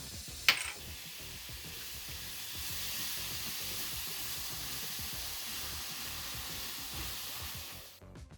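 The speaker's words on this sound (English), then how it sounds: "we're gonna add the honey and toss them until they're all evenly coated" Pecans tossed with honey in a hot pan, a soft continuous sizzle and hiss with faint stirring, one sharp clink early on, fading out at the end.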